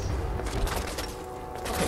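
Rapid bursts of gunfire in the video game Fallout 4 crackle in quick succession, moderately loud and steady across the short stretch, with no voices over them.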